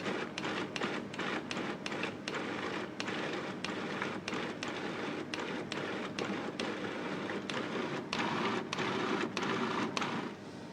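Food processor pureeing chicken mousse in small batches, a steady whirring motor with rapid regular chopping pulses running continuously at close range, no voices.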